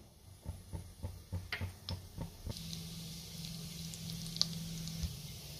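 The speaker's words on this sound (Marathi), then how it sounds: "तेल तूप गरम झालंय, त्याच्यामध्ये तमालपत्र आणि हे खडे मसाले घातलेत मी" Bay leaf and whole spices hit hot oil and ghee in a pan, first with a quick series of crackling pops, then settling into a soft, steady sizzle, close and fairly quiet, with no talk.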